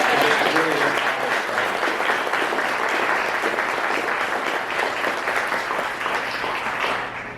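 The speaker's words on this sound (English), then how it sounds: "Please give them a big round of applause." A crowd applauds trail volunteers at a tourism event, a long, even wash of clapping that stays full and loud before easing slightly at the end.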